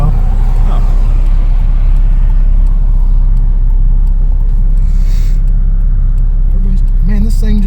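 A 1995 Dodge Stealth that had sat for years idles with a steady, loud low rumble, close by and continuous, with a voice talking over it.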